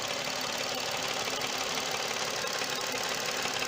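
A 2004 Nissan Maxima engine running after a tune-up and valve cover replacement, a steady close-up hum with a fine, even ticking texture throughout and no talk.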